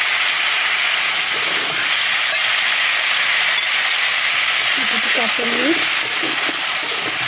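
Salt, turmeric and dried red chilli powder sizzle steadily in a hot pan while being sautéed, a constant loud frying hiss with a few faint stirring sounds near the end.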